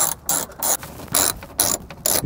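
A socket ratchet clicks in repeated short bursts while unscrewing the tail light fastener on a New Edge Mustang GT, the pawl chattering close and loud with brief pauses between strokes.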